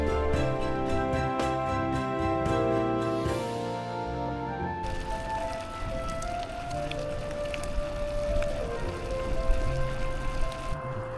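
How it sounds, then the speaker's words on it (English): Steady rain falls on a cyclist riding a Raleigh Chopper on a long UK end-to-end ride, a broad continuous wash of drops with a tonal hum underneath, loud and close throughout. "It's still raining."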